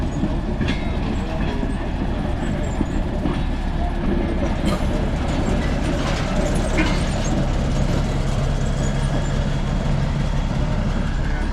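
A diesel switcher locomotive engine rumbles steadily nearby, a constant low drone with faint metallic clanks and rail noise throughout.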